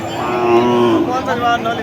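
A single long, low cow moo at a cattle market, close and fairly loud, with faint background noise.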